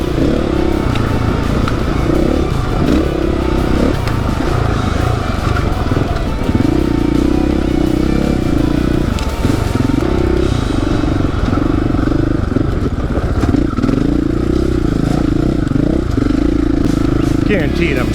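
A dirt bike engine drones and revs under a rider on tight desert singletrack trail, loud and close throughout, with wind buffeting, clattering over terrain and someone speaking over it.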